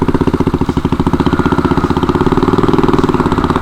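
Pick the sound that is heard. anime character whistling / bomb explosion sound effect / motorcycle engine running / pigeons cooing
motorcycle engine running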